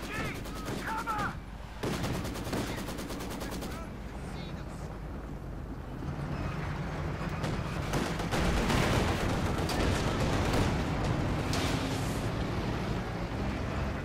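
Machine-gun and rifle fire crackle through a Company of Heroes 2 match, bursts and scattered shots under explosions and battle noise, with a commentator talking over parts of it.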